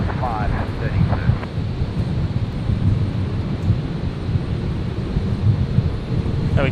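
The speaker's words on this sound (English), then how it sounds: "So Virgin 468 rotating there." A Virgin airliner takes off at Brisbane Airport with a broad, steady, low engine roar that stays strong throughout, roughened by wind buffeting the microphone.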